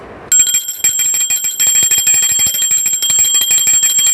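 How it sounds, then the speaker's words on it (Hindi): A hand bell rings steadily during an aarti puja, a bright metallic clang struck rapidly and continuously, loud and close, with no talking. "आरती में घंटी का ध्वनि ज़रूर होना चाहिए।"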